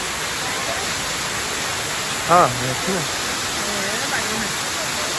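Rani Duduma waterfall at Nandapur roars as a steady, dense wash of falling water throughout, while someone speaks briefly over it partway through.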